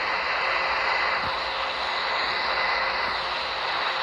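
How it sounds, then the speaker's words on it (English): A steady, loud jet engine roar drones continuously with a broad hiss, as a plane moves along on the ground. "And now was taxiing to the runway"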